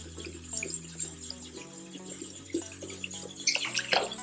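Makeup brush rinsed under a running tap into a sink, a quiet stream of water trickling and splashing with a few soft clinks, growing busier and splashier near the end, no talking.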